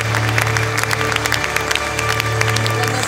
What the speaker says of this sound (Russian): Ну что же, еще ваши аплодисменты нашим награжденным.